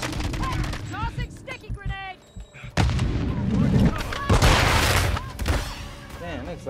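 Call of Duty combat with a hectic mix of rapid gunfire, heavy booming grenade blasts and explosions, loud and dense, while in-game voices shout over the fighting.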